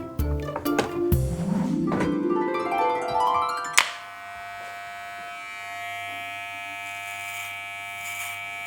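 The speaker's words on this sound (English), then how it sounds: "you hear the buzzing noise?" Electric hair clippers, whose top set of teeth is driven side to side by a vibrating arm against a spring, give off a steady mechanical buzz for several seconds. Rising, sliding tones and a sharp knock come before the buzz.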